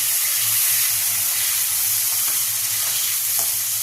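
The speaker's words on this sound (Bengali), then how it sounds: "উচ্ছেটা ফ্রাই করে নেবে আগে," Bitter gourd pieces fry in hot oil with a loud, dense, continuous sizzling hiss and faint stirring underneath, close up and steady throughout.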